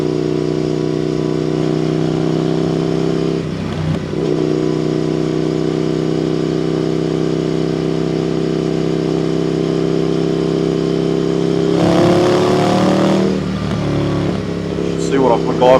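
An Indian FTR 1200 S motorcycle engine burbling steadily while riding on back roads, a continuous close low drone with a brief dip near four seconds and a louder surge of revving toward the end.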